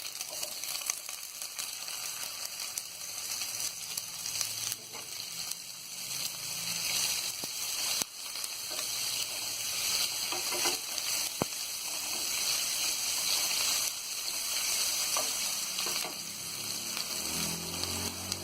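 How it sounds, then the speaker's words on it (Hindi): Onion frying in a pan with fennel seeds and curry leaves for baingan bharta, a faint, continuous crackling sizzle with a few soft clinks of stirring. "इसके बाद हम डालेंगे प्याज।"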